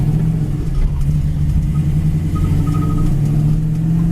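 A 1969 Chevy Camaro accelerates hard in second gear, its deep rumbling V8 exhaust droning loud and steady from close inside the car, with no talk.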